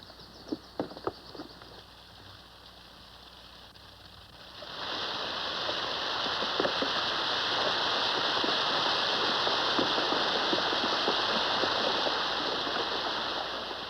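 Water rushing through an opened irrigation head gate after its top planks are pulled: a few knocks, then a steady, loud broadband gush that swells in and holds for the rest of the stretch.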